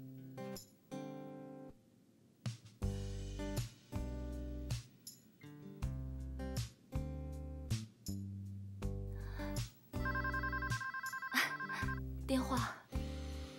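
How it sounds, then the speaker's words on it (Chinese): A telephone rings with a melodic ringtone that plays in regular repeated bursts of bright tones, fairly loud and close, with voices briefly heard around it. "电话。"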